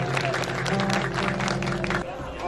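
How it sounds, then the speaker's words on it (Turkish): Applause and crowd noise fill an outdoor festival crowd greeting a performer, a dense clapping wash under someone speaking over a microphone, stopping sharply near the end. "O kardeşime de kocaman bir alkışlar gelsin"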